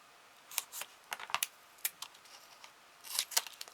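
Scissors snip through paper or card in quick, crisp cuts, several sharp clicks in irregular bursts close by in a quiet room, with no voices.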